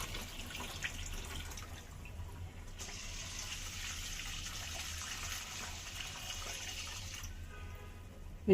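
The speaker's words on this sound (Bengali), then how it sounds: "এতটুকু পানি নিয়ে নিচ্ছি" Steady water running from a tap, a continuous hissing flow with a brighter stretch in the middle, no voices.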